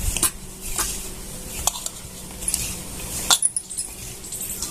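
Flour being mixed with ghee and a pinch of salt in a metal vessel for sweet modak dough, with faint scraping and a few light clinks of utensil against metal, quiet and intermittent.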